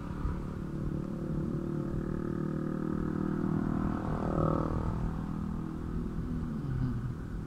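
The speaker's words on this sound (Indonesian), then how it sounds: "Aduh ini motor nih, suara berisik banget dah." A noisy motorcycle rumbles along a street during an afternoon ride, a continuous low engine drone that swells as it passes close by, with traffic noise underneath.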